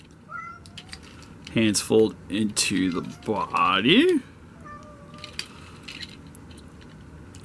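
A cat meows several times in a row near the microphone, its cries rising and bending in pitch, with someone speaking around the calls.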